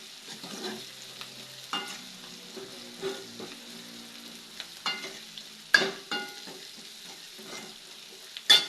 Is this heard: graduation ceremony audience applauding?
no